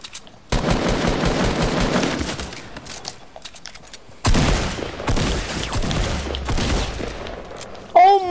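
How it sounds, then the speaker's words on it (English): Rapid bursts of video game gunfire from a pump shotgun in Fortnite, loud and dense in two long volleys, with a short electronic tone near the end. "On the pump shotgun."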